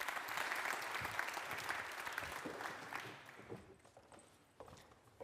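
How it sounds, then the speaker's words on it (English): Conference audience applauding for a panel speaker, a crowd of hands clapping briskly at first, then thinning and fading out toward the end. "Let's give Kelly a round of applause, please."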